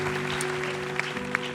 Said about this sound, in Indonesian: tepuk tangan dong untuk Umi Alfi Sukaisi malam hari ini